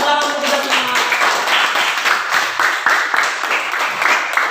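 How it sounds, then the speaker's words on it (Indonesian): A classroom of students claps together during a lesson, a close, lively burst of hand claps with a few voices at the start, steady throughout. "Terima kasih tepuk tangan untuk kita semua."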